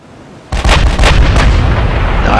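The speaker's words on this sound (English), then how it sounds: "they won't survive a lot of this long range fire" Naval artillery fire in Ultimate Admiral: Dreadnoughts: a loud, sudden cannon boom breaks a quiet background, followed by a rapid cluster of further heavy shots and rumbling blasts, close and dense, with no talking.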